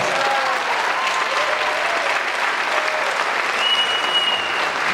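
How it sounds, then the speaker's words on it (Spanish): An audience at the close of an anthropology lecture bursts into sustained applause, a dense, even roar of many hands clapping that holds steady for several seconds with no speech over it. "Fuerte el aplauso"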